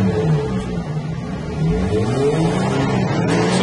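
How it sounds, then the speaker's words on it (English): A 2018 Kia Stinger's engine rumbles and revs steadily up close, a deep throaty exhaust drone that rises slightly toward the end. "Can we hear the exhaust?"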